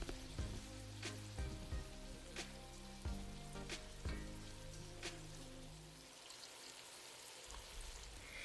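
Thin red onion slices fry in hot oil with a steady sizzle and crackle for a stew, broken by a few sharp pops and stir clatters.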